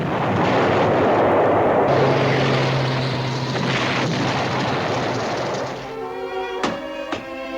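Artillery fire in a 1963 war TV series: a loud, sustained roaring barrage rumbles up close, then fades as a few sharp, separate blasts crack near the end, with no speech.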